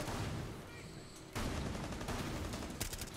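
Gunfire in the Rainbow Six Siege shooter game: a few sharp shots and a short burst, moderately loud, with faint talk underneath.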